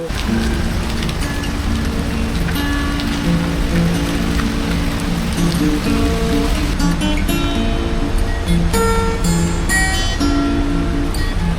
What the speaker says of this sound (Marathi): चहा पाहिजे पाऊस पडला आता.